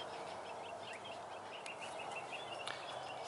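Birds chirp and sing outdoors at dawn, with scattered short calls over steady background ambience, fairly faint and at a distance; no one talks.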